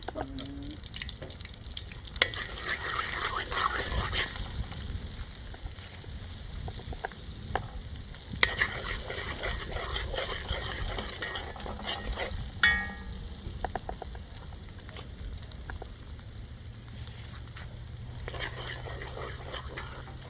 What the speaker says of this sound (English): burn the curry in some garlic and some scotch bonnet pepper